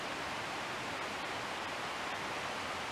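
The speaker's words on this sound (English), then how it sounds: "The noise you're hearing is the creek" A creek flows steadily and continuously in the woods near a bushcraft camp some 30 to 40 yards off, making a soft, even rushing hiss with no talk over it.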